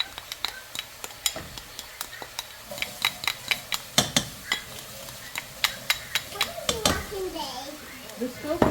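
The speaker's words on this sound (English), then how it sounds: "I'm just going to fry the onion a little bit on the stove" Onion and garlic frying in a pan over medium heat on a stove, with a steady sizzle under repeated sharp clicks of stirring against the pan, and a voice speaking near the end.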